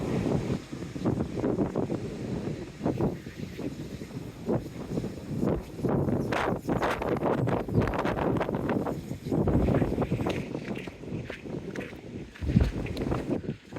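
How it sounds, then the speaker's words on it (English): Strong wind buffets the microphone continuously on a seafront path in Teignmouth, with gusty rumbling surges rising and falling throughout. "The wind is causing chip papers to blow along the pathway."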